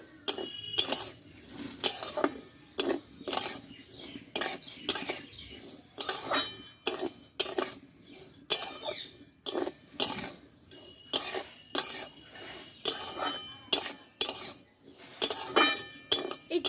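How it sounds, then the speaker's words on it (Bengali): Rice is stirred and tossed in a wok on a stove to make puffed rice, a close, rhythmic series of scraping strokes and metallic clinks repeating steadily throughout, with no talking. "এই চালটা বন্ধুরা পাঁচ মিনিট মতো এইভাবে আগে নাড়াচাড়া করে নিতে হবে কড়াইয়ে"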